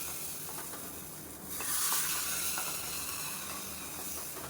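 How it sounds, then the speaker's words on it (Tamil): Hot tempering tipped into cooked beans-and-carrot moong dal kootu sets off a sudden, loud hissing sizzle that swells and then settles into a steady frying crackle, close and alone. "தாளிப்பு ரெடி ஆயிடுச்சு அதை எடுத்து இதை கொட்டிடுவோம்"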